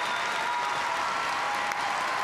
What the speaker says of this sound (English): I want everybody to give them a big round of applause.